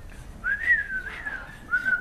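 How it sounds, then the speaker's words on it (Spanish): Whistled language of the Mazatec people: a single person whistles a series of gliding, speech-like phrases that rise and fall in pitch, close and clear over a quiet background. "Es como transformar el lenguaje hablado al silbido"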